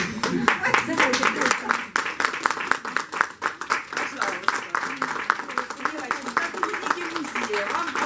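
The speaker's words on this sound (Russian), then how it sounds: "сотрудники музея, вам аплодируют" Audience applauding museum staff at an art museum's anniversary celebration in Kramatorsk, a dense, steady run of clapping lasting throughout, with a voice speaking over it.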